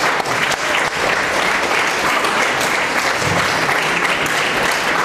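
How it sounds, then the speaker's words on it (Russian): Loud, sustained applause from a theatre troupe gathered for its season-opening meeting, thick continuous clapping filling the whole stretch with no speech over it. "Аплодисменты."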